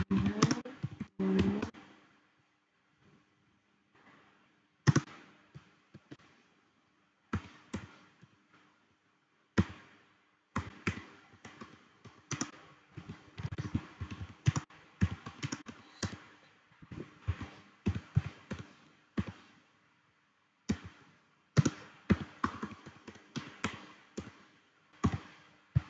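Computer keyboard typing a command, irregular bursts of close key clicks and taps separated by short pauses, with a quick flurry at the start and denser typing later.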